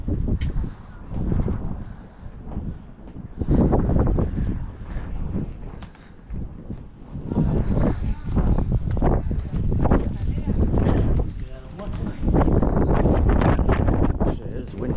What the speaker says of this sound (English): Shit, it is windy. It's very windy up here.